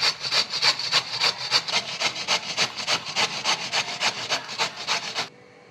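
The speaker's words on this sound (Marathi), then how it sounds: "आता छानपैकी ही कैरी आहे ना बारीक किसून घेऊया." A peeled raw Totapuri mango is rubbed finely against a grater in quick, even rasping strokes, about four per second, close and moderately loud, stopping abruptly near the end.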